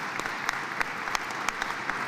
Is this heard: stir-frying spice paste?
no